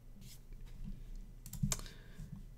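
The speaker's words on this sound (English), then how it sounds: "you can use your arrow keys to nudge" Arrow keys on a computer keyboard are pressed in a few scattered soft clicks over low room hum, recorded close by.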